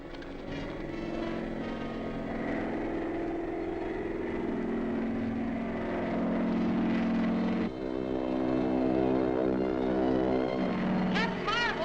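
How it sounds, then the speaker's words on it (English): A propeller airplane in a 1941 film serial approaches over a bombing range, its engine drone building steadily and growing louder as it nears, with a brief shift in tone partway through, under a dramatic score. "I can hear the plane coming."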